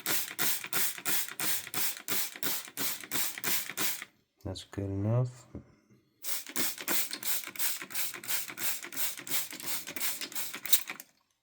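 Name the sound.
spray bottle misting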